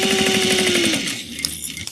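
A sewing machine test-stitches on a scrap of fabric to check tension, a brief rapid mechanical chatter up close that stops after about a second, followed by a few light clicks.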